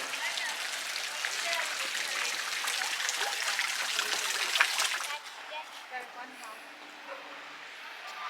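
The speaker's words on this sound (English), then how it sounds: "More water fountains." Water running in the garden fountains at Biltmore House and Gardens in Asheville, a steady close splashing rush that fades abruptly to a softer background trickle with faint outdoor ambience.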